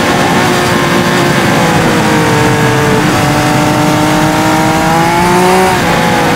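A Triumph Speed Triple 1200 RS motorcycle rides hard on a track, its engine droning loud and constant with rising and falling pitch through gear changes, all mixed with heavy wind rush.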